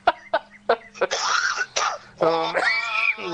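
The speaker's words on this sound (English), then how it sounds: "You're making me cough." A series of short, rough coughs in quick succession, then longer strained, hacking sounds with a hoarse, voiced edge, loud and close.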